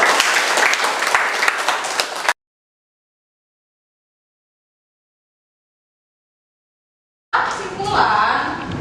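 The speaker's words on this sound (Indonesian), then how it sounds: "tepuk tangan dulu." A class of children in a school lesson claps together in lively applause, with a sudden silent gap before the clapping resumes, mixed with children's voices.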